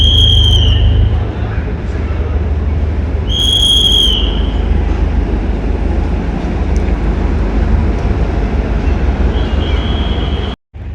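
A DEMU train in the Kashmir valley on the Srinagar to Baramulla line rumbles steadily and loudly, its horn sounding in a few bursts over the constant engine and track noise before the sound cuts off.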